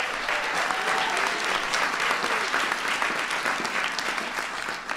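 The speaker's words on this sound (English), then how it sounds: "Give John a big round of applause" A large audience at the White House Science Fair gives a sustained round of applause for a guest, dense clapping steady and loud for the full stretch before slowly thinning toward the end.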